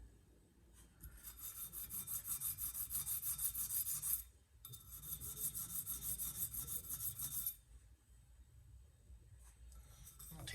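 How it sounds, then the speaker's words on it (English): A burr being honed on the reed of an antique jaw harp with a stone, giving two long passes of close, hissy, gritty rubbing with a short pause between them and quieter scraping at the end. "I'm even doing the edges, just honing that burr finer and finer"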